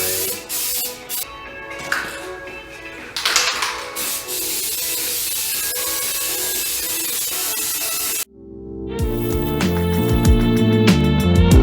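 Several hissing bursts of aerosol spray, close and loud, followed by a brief pause and then a rattling, mechanical clatter.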